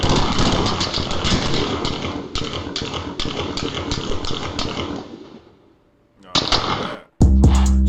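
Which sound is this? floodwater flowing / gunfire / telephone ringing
gunfire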